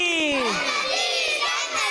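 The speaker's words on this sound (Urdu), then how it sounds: "جی نعرے لگانے زوردار انداز سے انشاءاللہ" A crowd of children at a religious gathering about the third Caliph shouts slogans loudly in unison, rising and falling voices filling the space with sustained, energetic chanting.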